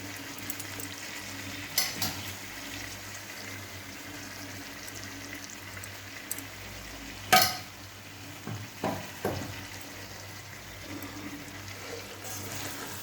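Kachki fish chorchori fries in oil as its water cooks off, a low steady sizzle broken by several sharp spoon scrapes and stirs against the pan.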